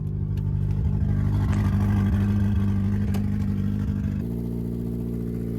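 A Honda Accord's turbocharged K24Z3 engine idles steadily while warming up, a low, even rumble with faint clatter, its pitch shifting slightly near the end.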